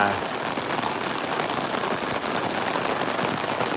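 Steady, dense rain patters on a surface at a parking lot behind a market, an even hiss throughout with no pauses, moderately loud and close.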